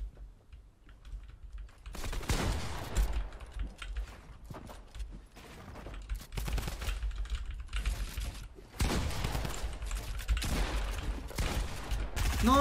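Rapid bursts of gunfire in an online shooter video game, coming in loud clustered volleys with short gaps between them, mixed with close keyboard clatter.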